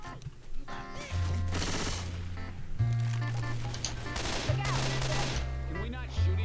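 Rapid automatic gunfire in the zombie shooter Left 4 Dead 2, dense bursts of shots running nearly continuously over a steady low in-game music drone, with a voice briefly heard amid the firing.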